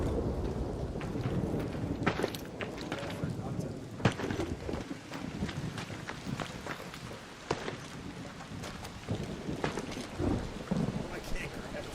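A thunderstorm in the video game Arc Raiders, with steady rain and sharp thunder cracks from a lightning strike, rumbling loudly and continuously throughout.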